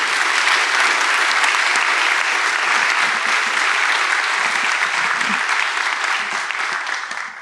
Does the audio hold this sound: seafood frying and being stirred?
no